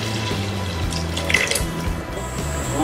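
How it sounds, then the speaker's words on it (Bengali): Water used to boil meat is poured into a pot of chicken soup, a steady running splash that stays close and continuous without any talking. "মাংসটাকে যে পানিটা দিয়ে সিদ্ধ করেছিলাম ওই পানিটা দিয়ে দিব।"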